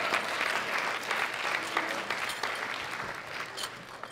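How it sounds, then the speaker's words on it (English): Audience applause for the winners at a sub-junior and junior world powerlifting championship, a sustained wash of clapping from a crowd that gradually thins and softens. "Big round of applause for all three of our winners."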